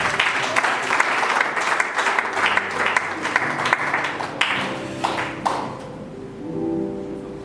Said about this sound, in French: Et on acclame encore le Seigneur.